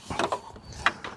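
Plastic LED headlight part on a 4th Gen Ram 2500 being pressed and snapped into its housing, a few short close clicks and clacks spread across about a second, fairly quiet with no talking.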